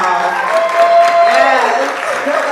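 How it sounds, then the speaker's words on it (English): An audience at a live talk-show evening applauds and cheers warmly, with voices whooping and calling out over a continuous bed of clapping at close, loud range. "I want to give her a round of applause"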